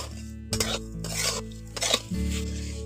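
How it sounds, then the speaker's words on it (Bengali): Coconut filling with sugar and crushed cardamom is stirred in a pan, giving soft scraping and clinking spoon strokes in short bursts, quiet and close, with a cough mixed in. "এগুলোকে ভালো করে নাড়াচাড়া করে"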